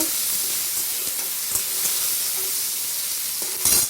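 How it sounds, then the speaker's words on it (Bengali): Chopped tomato hitting hot mustard oil in a kadai gives a loud, dense, even hiss that runs throughout and swells briefly near the end, heard up close with no talking. "এবার টমেটো কুচিটাকে আমি কড়ার মধ্যে দিয়ে দেবো, দিয়ে একটু এইভাবে নেড়ে নেব।"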